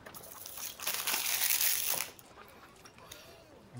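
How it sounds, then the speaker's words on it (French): Packaging of a boxed card game being unwrapped, with a burst of close crinkling and tearing of plastic wrap for about a second, then quiet handling. "Voilà, je l'ai déballé."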